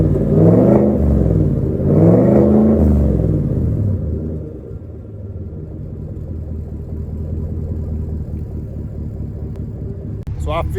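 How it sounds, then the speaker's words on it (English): A 2019 GMC Sierra 1500 V8 revs twice in quick surges, rising and falling, then settles back to a low rumbling exhaust idle, heard up close. "I hope you enjoyed that exhaust."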